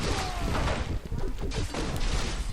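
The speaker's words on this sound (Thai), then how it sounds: "เป็นเหมือนการยิงกงเล็บอะไรสักอย่างนะฮะ แล้วยิงทีเดียวตายเลยนะ" Rapid volleys of claw projectiles fired like bullets in a Warcraft III custom map, a loud continuous barrage of sharp impacts and bursts with crashing hits layered throughout.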